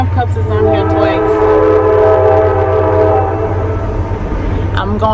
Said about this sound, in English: I'm gonna let the train pass.